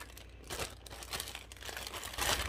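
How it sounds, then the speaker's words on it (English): A plastic Ziploc bag is handled and crinkled while being prepared as a piping bag for gingerbread icing, giving close, fairly loud rustling bursts with no voice. "take a Ziploc bag, cut a little bit off the end"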